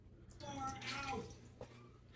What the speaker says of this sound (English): We're gonna generously pour this in there.